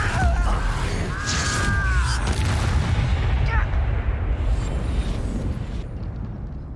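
In the Hogwarts Legacy video game, a Confringo fire spell bursts in a loud booming explosion amid crackling magical whooshes and rumbling, with a rushing tail fading out.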